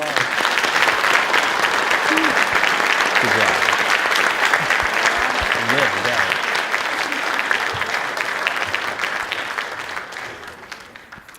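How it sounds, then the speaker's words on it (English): Dense, sustained applause fills the room at a military commissioning ceremony for a newly sworn-in army officer, loud and steady before fading toward the end, with a voice briefly offering congratulations. "Let's give him another round of applause."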